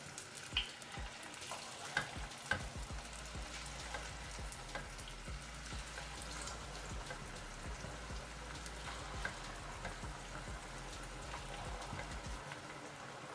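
Corn fritters fry in a shallow layer of oil. The sizzle is steady and close, dotted with sharp crackles and pops, and no one speaks.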